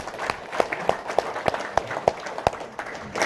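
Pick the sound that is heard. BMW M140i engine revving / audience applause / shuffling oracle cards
audience applause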